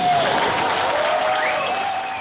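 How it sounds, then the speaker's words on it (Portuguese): An audience with visual impairments applauds enthusiastically at a theatre performance, a broad sustained wash of clapping with a faint whistle-like tone gliding over it, steady and then easing slightly at the close. "O público com deficiência visual aplaude efusivamente."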